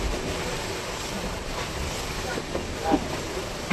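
A local train on the BBD Bag to Kalyani line pulls into Tala station, heard from inside as a dense, steady rumble and rushing noise with faint voices mixed in.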